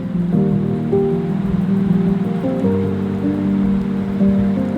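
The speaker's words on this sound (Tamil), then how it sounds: "எல்லாத்தையும் நல்லா ஃப்ரை பண்ணிவிட்டு" Dried chilies and spices fry in hot oil in a pan for a chicken dish, giving a steady, close sizzle that runs throughout, with a sustained tonal hum layered over it.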